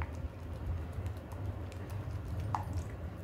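Thick henna paste is mixed with a spatula, with quiet, close, rapid tapping and squishing strokes repeating throughout a short stretch.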